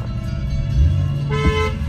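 A car horn toots as a vehicle approaches on a narrow street in Vrindavan, with a couple of short honks over loud engine rumble and road noise close by.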